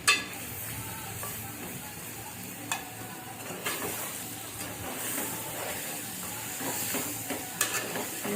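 Mutton being stirred into hot oil in a pan for a mutton curry, giving a steady close sizzle with scraping stir strokes and occasional clinks throughout.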